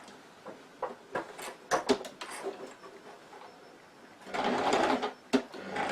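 Sewing machine stitching a fabric boutique purse with wadding inside, sounding in short bursts of whirring stitches with brief pauses, then a longer steady run near the end, close and moderately loud.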